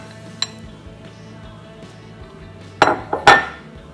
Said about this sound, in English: And then I'm going to add the almond flour.